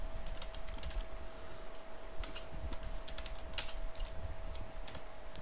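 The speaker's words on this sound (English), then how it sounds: "then type the creditor's name, Bajaj India Limited" Typing on a computer keyboard while entering accounting data, a steady run of light key clicks with a few louder taps, alone over a constant background hum.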